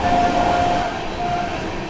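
A Garib Rath Express train runs at night on a mostly single-track line, giving a steady, loud broadband rumble of wheels and carriage, with a faint high whine briefly running through it.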